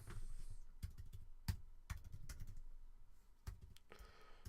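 Keyboard typing at a computer during a live stream, heard as irregular bursts of sharp key clicks with a few louder strikes spread across the stretch, close up and alone without talk.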